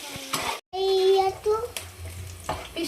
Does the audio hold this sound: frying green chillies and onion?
yes